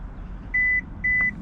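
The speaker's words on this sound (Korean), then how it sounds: "삐삐 소리 나면 다음에 트렁크 열 때는요" A 2024 Hyundai Tucson facelift sounds two short, clear electronic beeps, evenly spaced, confirming the power tailgate's opening height has been set, against a quiet low background hum.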